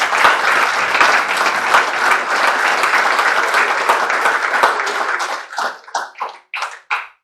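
A church congregation gives sustained, dense applause that thins into a few scattered claps near the end.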